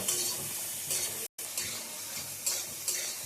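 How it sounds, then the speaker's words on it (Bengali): Chopped onion stirred in a dry pan with no oil over a low flame, giving a steady close sizzle broken by scraping strokes and one brief dropout. "তারপরে লো ফ্লেমে পেঁয়াজটাকে ভালো করে নাড়তে থাকবো।"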